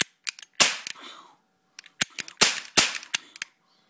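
A toy gun fired at a fly indoors: a cluster of sharp, close cap-like snaps and clicks, with a couple of louder bursts among them, then quiet.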